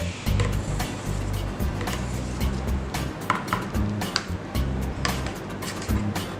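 Metal utensils scrape and tap across the chilled steel pan of a Petrus mini fried ice cream machine as yogurt ice cream is stirred and folded, with repeated clicks and scrapes over a steady low motor hum.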